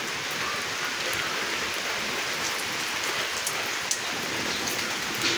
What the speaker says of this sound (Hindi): आज बहुत बारिश गिर रही है थोड़ा थोड़ा।